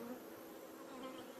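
Honeybees hum steadily around their hives at an apiary in Ardèche, a dense, continuous buzz of many insects close by with no voices.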